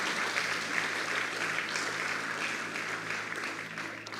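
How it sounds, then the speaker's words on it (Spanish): A church congregation applauds steadily throughout, a sustained wash of clapping that fades slightly toward the end, with no one speaking over it. "Dele un aplauso al Señor"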